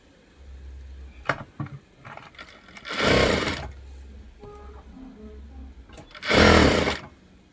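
An electric sewing machine stitching a blouse runs in two loud, whirring bursts of a couple of seconds each, with softer clicks and a quiet voice speaking between them.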